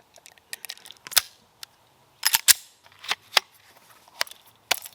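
Pistol shots at an outdoor shooting range, a string of sharp distant cracks in irregular bursts with quiet gaps between them.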